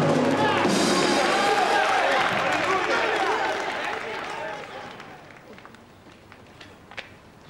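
Studio audience clapping at a 1987 TV comedy show, a loud dense burst of applause with crowd noise that gradually fades over several seconds.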